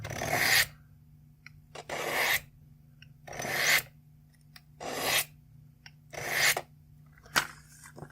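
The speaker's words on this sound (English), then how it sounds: "You take some rods at your angle, and you just go down each one." Steel blade of an A.G. Russell Pocket Beak knife drawn down sharpening rods: five or six dry rasping strokes in a steady rhythm, each about half a second, with quiet pauses between, close and fairly soft.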